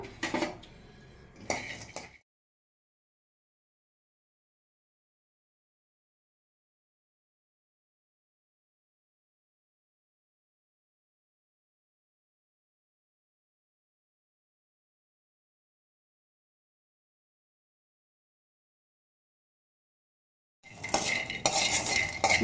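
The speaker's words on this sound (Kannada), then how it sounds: "ಸಣ್ಣ ಮೀಡಿಯಮ್ ಫ್ಲೇಮಲ್ಲಿ ಕಡಲೆಕಾಯಿ ಬೀಜ ಹುರ್ಕೋಬೇಕು, ಕಪ್ಪಗೆ ಮಾಡಬಾರ್ದು" Peanuts dry-roasting in a pan over a medium flame, stirred for mandakki peda, give two short bursts of scraping and rattling at the start and end, with a long stretch of silence between.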